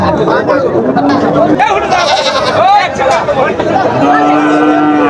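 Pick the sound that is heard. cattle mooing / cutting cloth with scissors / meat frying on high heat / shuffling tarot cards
cattle mooing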